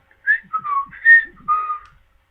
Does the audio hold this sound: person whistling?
yes